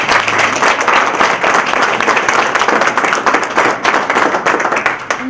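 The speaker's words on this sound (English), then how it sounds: "Big applause for Macy's." A crowd at a Hispanic chambers of commerce event at Macy's claps loudly in a close, dense round of applause that continues steadily throughout with no talk over it.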